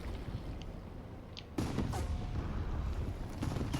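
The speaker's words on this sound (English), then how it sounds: "this artillery fire is getting a bit too close for comfort" Artillery fire in the War Thunder tank game: a sudden muffled boom lands midway, followed by rumbling impacts and low battlefield noise, fairly distant and quiet with no talk.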